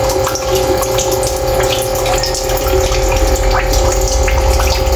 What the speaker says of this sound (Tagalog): Naka-aerator at meron din tayong recirculating na tubig na nilagay dito.